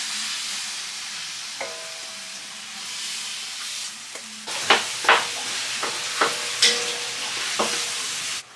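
Ground beef sautés with garlic and onion in a pan, a steady close sizzle broken by several sharp scraping stirs and clinks in the second half.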